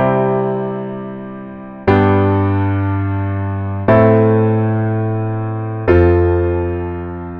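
A 1-5-6-4 chord progression, four sustained chords struck roughly two seconds apart, each ringing out and fading gradually, loud and clear with no voices.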